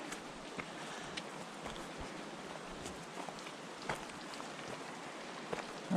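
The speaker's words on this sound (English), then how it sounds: "Rain is definitely slowing and stopping" Rain falling through pine woods on a hiking trail near Arethusa Falls, a steady soft patter with scattered louder drips hitting leaves and ground, even and fairly quiet throughout with no voices.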